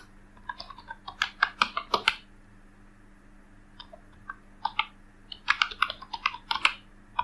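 Typing on a computer keyboard, close and fairly quiet, heard as two bursts of quick, uneven key clicks with a short pause between them over a faint background hum.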